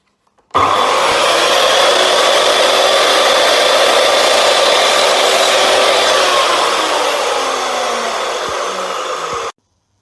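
A power saw makes a 45-degree cut through a wood flooring piece for a herringbone floor, one loud, steady whine running unbroken for about nine seconds before stopping abruptly.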